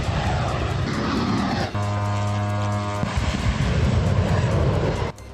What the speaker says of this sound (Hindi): तीसरा ड्रोन हमला